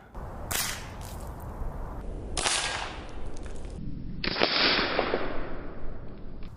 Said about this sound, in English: I've actually been training with this gun to make sure I don't screw this up.